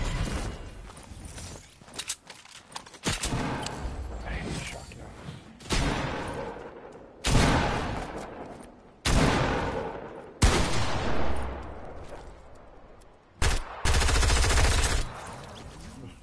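Shotgun fire rings out in a video game, heard as a series of loud, sharp blasts at uneven intervals with mechanical clatter between them.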